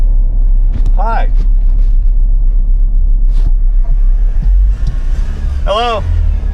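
A car driving down the road with a steady loud rumble from the engine and tyres, while people talk inside the cabin.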